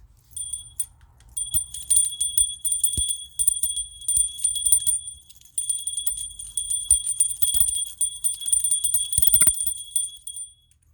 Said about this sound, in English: We're gonna clear the energies with the bell